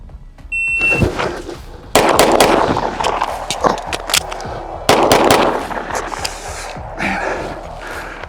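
Several sharp, loud pistol shots ring out from an Archon Firearms Type B Gen 2 at a shooting range, fired in irregular bursts with brief pauses between strings, close and echoing.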